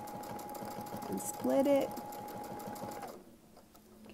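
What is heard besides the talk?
sewing machine free-motion quilting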